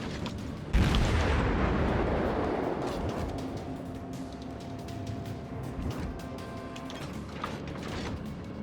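Naval guns boom in a World of Warships battle: a loud blast near one second rolls off into a long fading rumble, with smaller thuds and mechanical clanks following across the rest of the scene.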